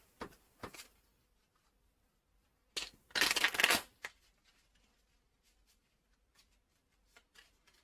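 Tea leaf oracle cards riffled and shuffled in short, close bursts, one longer rustling flurry in the middle, with quiet pauses between.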